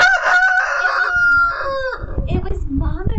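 A hen gives a drawn-out, complaining vocal call in the evening, followed by softer, choppy clucks and rustling close to the microphone.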